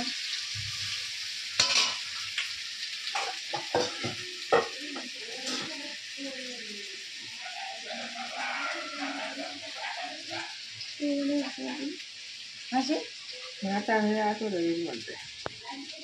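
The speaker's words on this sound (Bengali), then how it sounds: "আলুটা ভাজা হচ্ছে।" Potatoes frying in a pan in a home kitchen, a steady bright sizzle running throughout, with intermittent clinks and stirring knocks and people talking over it.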